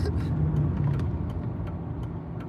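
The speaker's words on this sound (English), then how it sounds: "they'll just have 100 red cars in a row going up the street." A stream of cars drives up a street, a continuous mid-level engine and tyre rumble with small passing ticks, while faint voices sit in the background.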